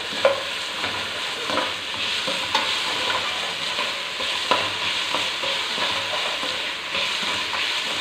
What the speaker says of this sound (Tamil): கறிவேப்பிலை, தக்காளி சாப் பண்ணி வச்சுருக்கேன், அதையும் நல்லா மசிகிற வரைக்கும் வதக்கி விட்டுக்கலாம்